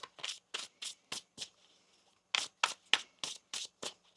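Tarot cards are shuffled in a crisp, regular series of riffling bursts, two runs of about five quick strokes each separated by a brief pause, close and clear with no voices.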